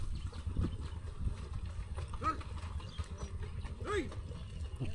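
Horses hauling a heavy load of harvested paddy on a Bangladeshi village track, their hooves clopping unevenly and steadily up close. Voices and a rough, continuous background rumble run underneath.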